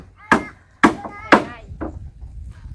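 Wooden planks are hammered while a floor is laid for a seating extension at the front of a house: four loud, close, ringing blows at a steady pace, the last one softer, followed by a quieter tail.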